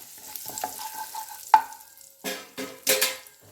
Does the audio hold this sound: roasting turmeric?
yes